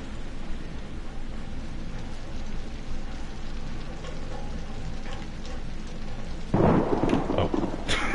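In the video game Outlast, steady rain hisses throughout, then a loud crack of thunder with lightning bursts in near the end and rumbles on.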